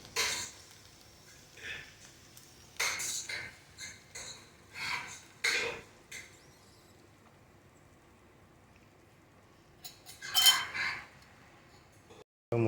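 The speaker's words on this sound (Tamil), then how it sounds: "இப்போ நம்ம உடச்சி வச்சு 2 முட்டையை வந்து இதில் ஆட் பண்ணிக்க போகிறோம்" Sharp clinks and taps of two eggs being cracked into an okra stir-fry in a pan, a few scattered clusters of kitchen sounds separated by near silence, close and fairly quiet.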